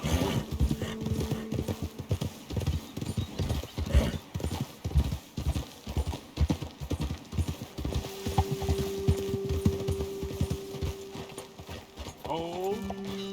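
Horse hooves clip-clop steadily in Red Dead Redemption 2, a close, even rhythm of multiple horses walking on a trail, slowing near the end, with occasional character dialogue and a faint whinny.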